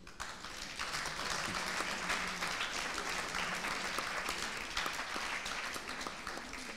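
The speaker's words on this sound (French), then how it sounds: "Donc bravo à eux, applaudissons-les." An audience at a gathering of social work professionals and activists applauds, with dense, sustained clapping from many hands held at an even level throughout and no talk over it.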